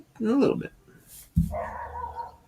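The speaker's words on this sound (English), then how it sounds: "the next door neighbor's dog, and yeah, he likes to tell us he's out and about whenever he hears us" A next-door neighbor's dog barks outside, a few short yips and barks at moderate distance, mixed in with nearby talking and household noise.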